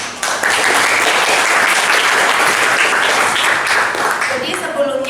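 Classroom applause from a group of students, steady dense clapping that starts abruptly and holds loud for about five seconds before thinning out at the end.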